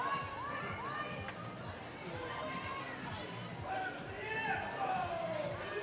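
Spectators at a women's football match cheer and shout, with high whoops and calls rising over a busy crowd murmur, while a commentator speaks over them.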